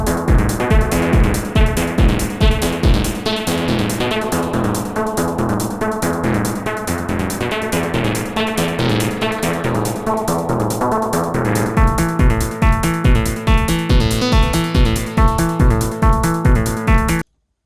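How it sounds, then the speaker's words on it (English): Loquelic Iteritas modular synth voice, sequenced by a Turing Machine, plays a dense atonal techno riff of rapid repeating metallic notes with steady pulsing low hits, loud and continuous without talk. "I just wanted to showcase how you can make the Loquelic sound like a nice atonal techno voice."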